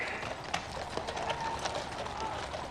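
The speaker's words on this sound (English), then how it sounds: "Finally, it's the horse guard's turn." Horses of a ceremonial horse guard clip-clopping, a quick, irregular patter of hooves on hard ground at moderate distance, fairly faint amid crowd ambience.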